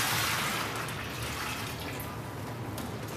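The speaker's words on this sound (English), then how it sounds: "2 liters of water that goes first into the bucket" Two liters of water pour into a bucket while servicing a domestic heat pump, a steady close splashing rush that lasts throughout without talk.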